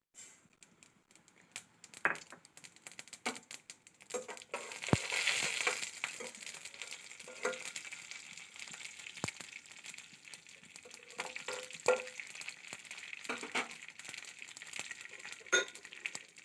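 Mustard seeds splutter in hot oil at the start of cooking beetroot dosa, giving scattered sharp pops and crackles at an irregular pace, close by and fairly quiet.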